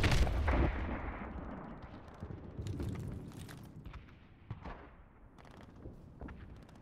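A grenade blast in Call of Duty: Modern Warfare Remastered opens with a loud booming burst that rumbles away, followed by several sharper, quieter gunshot-like cracks scattered through the rest.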